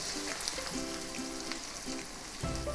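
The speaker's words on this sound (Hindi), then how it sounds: "1 इंच छोटी छोटी कटी हुई अदरक, इसको आधे मिनट के लिए हल्का से चलाएंगे" Chopped ginger sizzles and fries in a hot pan with oil, a steady crackling hiss with soft scraping as it is stirred, close and continuous.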